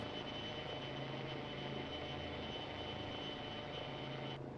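A helicopter in a cops-versus-robbers video game drones steadily and loudly nearby, its engine and rotor hum continuous throughout with no voices.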